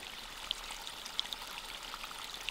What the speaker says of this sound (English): Purified, the water then fills the irrigating tank, whereas its surplus flows into the small lake.